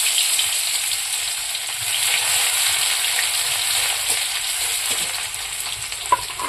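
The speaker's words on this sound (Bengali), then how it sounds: "ভাজা ভাজা করে নেবো" Chopped onions sizzle steadily in hot oil with bay leaf, cumin and garam masala, a constant close frying hiss with no talking, and a single brief clink near the end.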